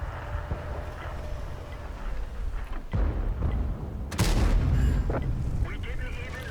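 Heavy tank cannon shots in World of Tanks boom out twice with deep rumbling tails, fired at a Soviet ST-I heavy tank during a tier 9 German medium tank match, with a voice talking over the battle.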